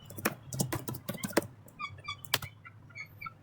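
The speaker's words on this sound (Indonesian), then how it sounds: "Belum selesai ngetik mas." Computer keyboard typing during Cisco network configuration, a quick, irregular run of close key clicks with short pauses, fairly quiet, followed by lighter faint tapping.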